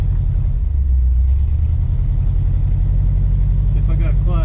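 An old abandoned GMC truck rolls for the first time in years, its engine giving a loud, steady low rumble close by that runs through the whole stretch, with a voice speaking briefly over it near the end.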